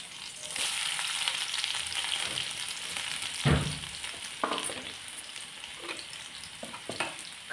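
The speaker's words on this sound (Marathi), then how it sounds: "आता आपण कांदो घालून घेऊया फोडणी." Chopped onion frying in hot oil for a tempering, a dense steady sizzle up close, with a louder burst as the onion goes in and a few stirring scrapes, no voices.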